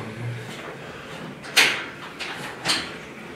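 A door is pushed open with a few sharp knocks and rattles during a terror raid in Mersin, each bump short and close against a quiet background.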